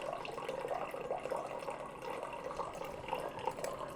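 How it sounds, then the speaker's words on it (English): Cold water pours from the dispenser of a Leysern reverse osmosis filter with hot and cold settings into a container, a quiet continuous trickling fill that stays steady for a few seconds. "So the cold water does dispense a little faster."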